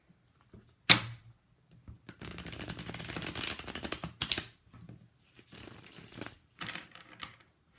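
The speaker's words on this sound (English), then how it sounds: "Shuffle one more time." Tarot cards are shuffled close by in crisp riffling bursts, a sharp snap then a long flurry of flicking cards, followed by two shorter shuffles, with no talking.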